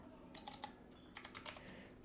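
Short bursts of light keystrokes on a computer keyboard, two quick clusters of taps, close but quiet over a faint steady room hum.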